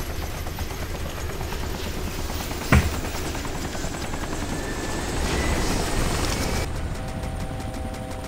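Helicopters drone steadily through a video game battle, their rotor noise a continuous loud wash with a sharp impact crack partway through and a shift in tone near the end.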